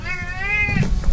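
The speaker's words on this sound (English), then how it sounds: "I just heard a cat." A single drawn-out meow from a pet cat worked up on catnip, close and loud, its pitch holding steady before trailing off into low background noise.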